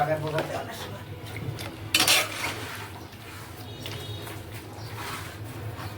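A pan of fish curry with salt, green chillies, onion and turmeric is stirred, giving soft metallic scrapes and clinks with a sharper clatter midway, while people talk nearby.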